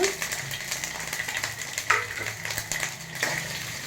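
Cut chillies frying in a pan for a stuffed chilli gojju, a steady close sizzle with scattered scraping stir strokes and clicks, with no talk.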